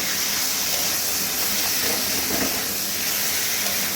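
Fried Gobindobhog rice and dal sizzle in a spice masala in a pan, a steady broadband hiss of frying that stays even and close for the whole stretch.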